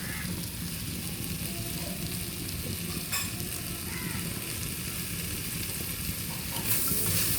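Kottayam-style chicken curry with coconut pieces is stirred in a hot pan, giving a close, steady sizzle and hiss with faint scraping stir sounds throughout and no talk.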